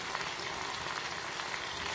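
Ingredients for chicken handi, with ginger and garlic paste, sauté in a pot. A steady, close sizzle of frying runs without a break.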